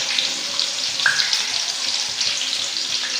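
Onions hit hot oil in a pan, giving a close, steady frying hiss with a few light pops and a brief clink partway through, without any talking.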